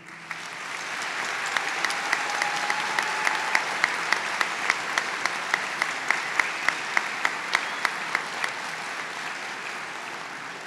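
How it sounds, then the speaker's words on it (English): Broad, sustained audience applause at a Veterans Day ceremony, a steady wash of many hands heard from a distance with a few sharper nearby claps standing out, lasting the whole stretch. "Would you please give them applause for joining us this morning?"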